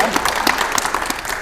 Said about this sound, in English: Give Sarah a round of applause